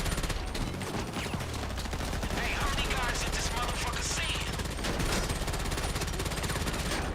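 Rapid sustained gunfire from a magazine being emptied in GTA 5 Online during a solo Dre VIP contract mission, a continuous loud rattle of shots lasting several seconds with a voice talking over it.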